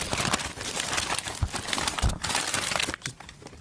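Close, sharp crinkling of a clear plastic evidence bag, a steady run of crackles and rustles with a few louder handling bumps, under a faint room background.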